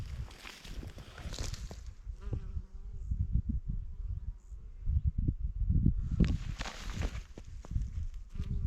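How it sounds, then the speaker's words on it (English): Honeybees and other insects buzz around pea plants in a farm field, a steady close hum that drifts in and out with brief louder passes, over faint outdoor ambience. "It's an absolute hive of activity, insect-wise. There's honeybees."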